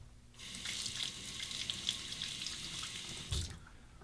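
A bathroom tap runs in a steady close splashing stream while a razor is rinsed, starting abruptly and cutting off after a few seconds with a short clunk near the end.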